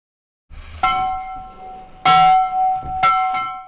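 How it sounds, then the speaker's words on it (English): A school handbell at Shaw Island School, 136 years old, clangs in three separate bursts, each strike ringing bright and sustained before fading, with short pauses between the rings. "The bell rings by hand at Shaw Island School"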